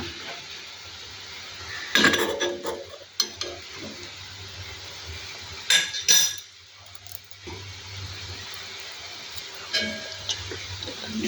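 A spoon clinks and scrapes against a dish holding fish pickle, sharp metallic taps in several clusters with quieter stirring between, close by and without talk.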